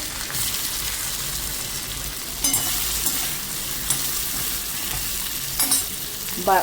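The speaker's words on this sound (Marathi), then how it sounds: "तर हे टाकलेलं आहे आपण तळायला बटाटे." Potatoes for dum aloo deep-fry in hot oil, giving a steady, loud hiss and crackle throughout, broken by a few brief clinks and stirring bursts, with no talking.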